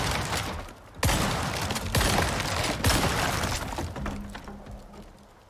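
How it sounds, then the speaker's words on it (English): Three loud, close shotgun blasts from a rusty shotgun in the survival game Icarus, fired about a second apart at a structure, each with a sharp crack and rumbling tail, then fading to quiet. "We're going to fire 3 rounds into this structure here and see how fast it"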